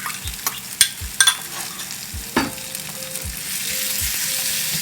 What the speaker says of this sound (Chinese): 把猪肉碎炒散